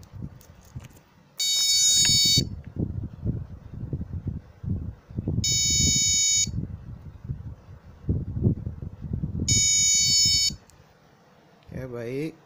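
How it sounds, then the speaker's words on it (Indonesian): Buzzer on a microcontroller project sounds three loud, sustained electronic tones, each lasting about a second, spaced a few seconds apart, while someone talks throughout. "buzzer akan berbunyi seperti ini."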